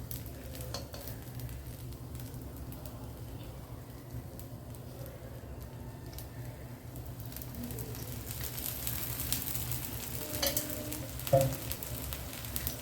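Pearl millet adai frying in oil on a hot pan, a steady low sizzle running throughout with faint utensil clinks, growing slightly brighter toward the end with one sharper scrape or tap near the close.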